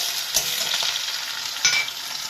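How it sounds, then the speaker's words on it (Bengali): Garlic paste sizzles in a hot pan with whole spices, hissing steadily, with two sharp scrapes of a spoon stirring it. "তারপরে রসুন বাটা দিলাম, দেখতে নেড়ে দিলাম।"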